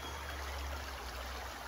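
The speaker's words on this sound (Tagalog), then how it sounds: "mo dagayday ning tubig mga higala aning sapa diri sa Manduwang" Water in a small creek in Manduang flows as a steady, dense rushing wash. The sound is close and constant throughout, with no voices.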